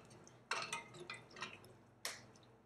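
Salsa being scooped into a dish and stirred around: a few wet, squelchy bursts and soft sloshing movements, close and fairly quiet, with no voices.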